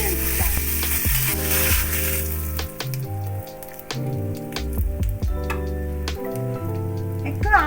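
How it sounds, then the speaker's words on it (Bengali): Whole cumin seeds and bay leaf sizzle in hot oil for a Bengali chal kumro muri ghonto, a steady crackle partly masked by loud background music throughout. "একটু গোটা জিরে ফোড়ন দিলাম, তেজপাতা দিলাম"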